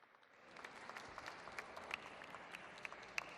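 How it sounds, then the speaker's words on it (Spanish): A seminar audience gives a speaker quiet applause, a soft, steady patter of many hands heard from a distance, with a few sharper claps standing out and no speech over it. "Fuerte el aplauso, por favor."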